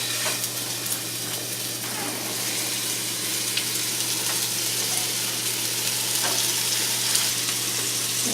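Meatballs searing in a crowded pan give a dense, even sizzle with a steady hiss throughout, close and loud, with a few faint ticks of spattering fat and no talk.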